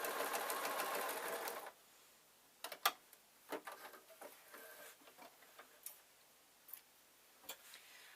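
A home sewing machine stitches the pleated ends of a baby's kilt with an elastic waistband. A short fast whirring run is followed by scattered soft ticks and clicks as the fabric is handled, all fairly faint.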